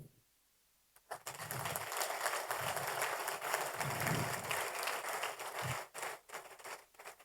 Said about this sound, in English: You must be a superstar that are clapping for you.